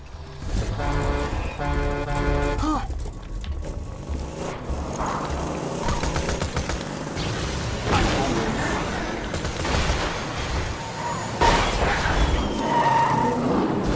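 In Borderlands 2, a game vehicle's tires skid and its engine revs as it slides and swerves, with clattering impacts and mechanical rattles mixed in over a long, busy stretch of driving noise.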